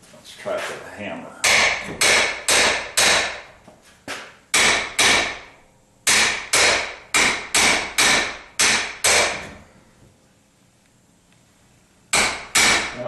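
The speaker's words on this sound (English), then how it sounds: "let's try with a hammer." Sharp metallic hammer strikes on a U-joint in a 1976 Corvette half shaft ring out in quick bursts of several blows, pausing between groups, close and loud.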